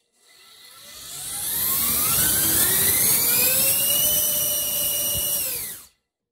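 Cinewhoop drone motors with short ducts spinning up on a 4S thrust test: a loud, close, high-pitched whine that rises steadily in pitch, holds for a few seconds, then cuts off abruptly.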